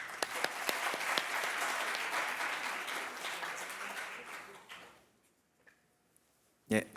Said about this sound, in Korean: 이광우 수석부장판사님께 큰 박수 부탁드립니다.